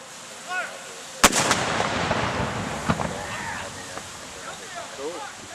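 A sharp, loud volley of ceremonial gunfire at a Sons of Confederate Veterans Confederate Memorial Day event, followed by a rolling echo that fades out. People talk and murmur outdoors around the shot.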